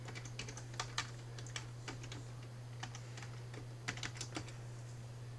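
Quiet, fairly close clicking of keys on a computer keyboard as a username and password are entered, irregular bursts of taps over a low steady electrical hum.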